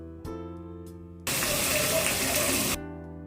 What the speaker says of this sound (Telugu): అవి తీసేసి నార్మల్ వాటర్తో 2 times వాష్ చేసుకోవాలి